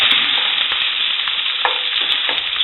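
Bacon grease melts in a cast iron pan with a steady, close crackling sizzle that continues without a break. No voices are heard.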